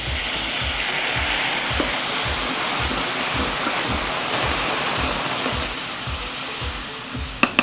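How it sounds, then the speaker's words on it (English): About half a cup of water is poured into a hot pot of chile con carne, giving a loud, close, steady rushing hiss with sizzling that lasts several seconds. No voices are heard. "That was about a half cup of water"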